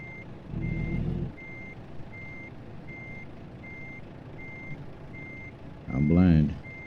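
A truck in American Truck Simulator backs a trailer with steady, evenly spaced reversing beeps throughout, over a low engine rumble that swells in short bursts, and a brief voice near the end.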